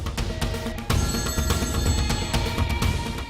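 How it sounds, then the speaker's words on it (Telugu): A telephone rings steadily for a few seconds over a dense, music-like background, with no voices heard. "రింగ్ అవుతుందన్నా"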